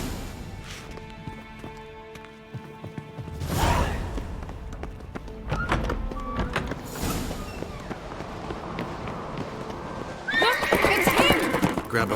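A horse in The Witcher 3 whinnies loudly and snorts, with clip-clop hooves and creaking tack between the calls, close and prominent with little talk.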